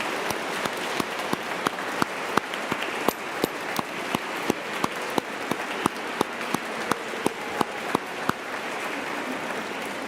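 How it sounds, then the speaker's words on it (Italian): A congregation applauds steadily for about ten seconds at a First Communion Mass, a dense wash of clapping with a few sharper individual claps standing out, no voices. "facciamo un applauso pieno di ringraziamento"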